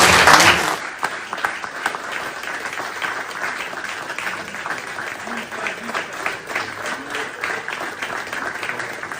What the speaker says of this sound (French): je veux vous demander de m'accompagner à faire une ovation, mais vraiment royale